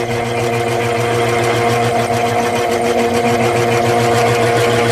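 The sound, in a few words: clay mixing machine running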